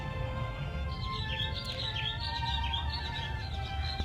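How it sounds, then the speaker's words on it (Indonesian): Birds chirp and tweet in the morning around an empty house, repeated bright calls over a low steady background hum, with no one talking. "Kedengeran nggak burung? Ini udah pagi."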